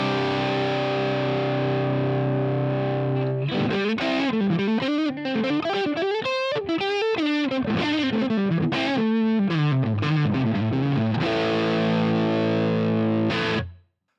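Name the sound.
Les Paul electric guitar, middle pickup position, through Marshall Plexi model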